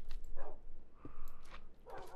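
Dogs barking and yipping in the Minecraft Lucky Blocks mod, several short game-sound barks in bursts across a couple of seconds with voices talking over them.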